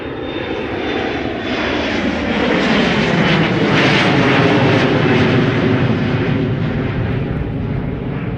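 An Embraer 175 jet roars past at Amsterdam Schiphol Airport, loud and close, its engine noise building to a peak and then holding as a broad, continuous rumble with a faint whine.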